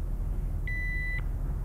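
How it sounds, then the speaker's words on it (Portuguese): A motorcycle alarm gives a single bright electronic beep of about half a second, then a second beep starts at the very end. Both sound clear over a low background hum. "Deixa eu tirar esse alarme da moto"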